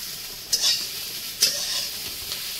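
Potatoes fry in a pan with a soft, steady sizzle, broken by two sharper scraping stirs, close by and moderately quiet, with no voices.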